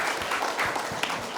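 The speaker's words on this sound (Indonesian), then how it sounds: "tepuk tangan dong." Applause for a primary school regional-language teacher in a classroom at SD Pusri Palembang: a steady wash of hand clapping from a group, moderately loud and continuous for the whole moment, with no speech over it.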